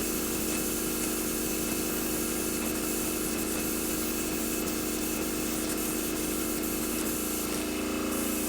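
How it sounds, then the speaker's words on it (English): A steady, hissing spray of an airbrush painting a 1/100 scale Saturn V model runs continuously at moderate volume, close up, with no pauses. "I'm spraying perpendicular to the surface of the model"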